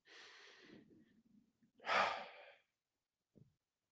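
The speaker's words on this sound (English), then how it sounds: "Take a few deep breaths." A person exhales slowly and deeply, then takes a longer, louder breath in and out, close and otherwise quiet, ending with a short soft breath.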